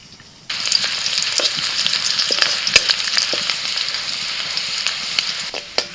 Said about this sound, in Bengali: কড়াইতে অল্প একটু সাদা তেল নিয়ে ওর মধ্যে আমি দিয়ে দিচ্ছি রসুন কুচি